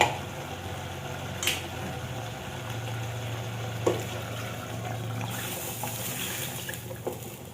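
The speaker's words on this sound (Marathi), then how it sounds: "मटण शिजण्यासाठी जेवढं आवश्यक आहे तेवढं पाणी मी घातले कुकरमध्ये." Hot water is poured into mutton in a pressure cooker, making a steady splashing fill over a low background hum, with a few small knocks along the way.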